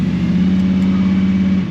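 A 1982 Chevy S10 pickup fitted with a V8 in place of the stock inline four or V6, set up for drag racing, gives a brief, steady, loud engine drone up close.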